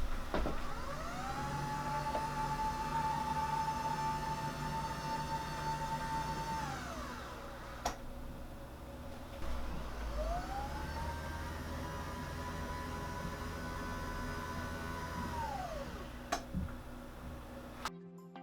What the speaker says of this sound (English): The dual motor is very quiet at 45 decibels and it races smoothly. And this is what it sounds like.